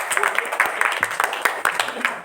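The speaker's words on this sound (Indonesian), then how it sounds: "Kita berikan tepuk tangan ya buat Mas." Scattered clapping from a small group, a few seconds of uneven hand claps with some background chatter.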